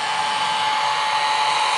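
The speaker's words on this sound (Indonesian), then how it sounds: "kita pakaiin hair dryer aja lagi" A hair dryer blows hot air onto a darbuka's plastic drum head with a steady, continuous whooshing hum and a faint whine, unbroken and close by.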